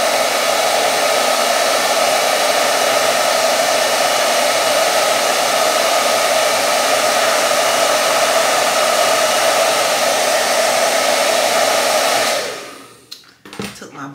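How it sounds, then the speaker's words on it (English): A handheld blow dryer runs steadily on a pre-styled wig's hairline, producing a loud, constant airy whir that continues uninterrupted for about twelve seconds before switching off, followed by a few soft handling noises. "Took my blow dryer, put it down"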